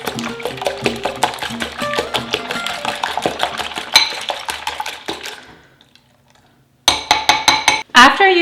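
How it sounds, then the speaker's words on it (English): Six eggs beaten in a bowl with a fork or whisk for Persian koko, a fast rhythmic clinking against the bowl that stops, followed by a pause and then another brief burst of clinking. "After you beat your eggs,"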